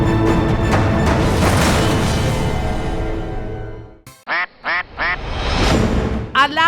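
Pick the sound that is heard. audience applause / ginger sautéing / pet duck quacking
pet duck quacking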